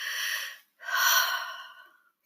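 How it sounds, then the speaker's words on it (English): A deep breath taken slowly: one long airy inhale, a brief pause, then a longer, fuller exhale, close and soft, with no talking. "Big inhale, big exhale."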